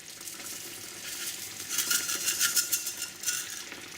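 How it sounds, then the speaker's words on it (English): Rice is stirred into a simmering tomato mixture in a pot, giving a soft bubbling sizzle with a spoon scraping and swishing in a few rhythmic strokes, close and moderately quiet with no speech. "I'm going to add my rice now and give it a stir"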